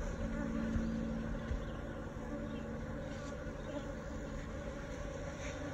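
Honey bees buzz in a dense, continuous swarm around house columns, close and fairly loud, with individual bees droning past; no talking.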